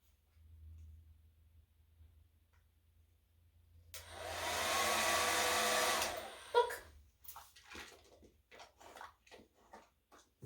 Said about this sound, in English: Play with the blow dryer